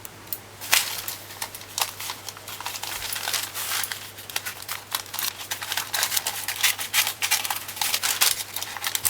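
Scissors snip and crunch through paper along a marked ink line while lining a cake pan for a Jamaican rum fruit cake, a steady run of close, crisp cuts with paper crinkling between them.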